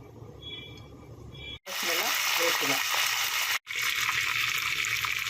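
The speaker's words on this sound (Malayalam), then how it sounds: "ഒരു ടീസ്പൂണോളം കടുക് ഇട്ടിട്ടുണ്ട് കേട്ടോ അതൊന്ന് പൊട്ടണം" About a teaspoon of mustard seeds in roughly three tablespoons of hot coconut oil, giving a loud, dense sizzle with crackling pops that starts abruptly and runs steadily, broken by two brief silent cuts.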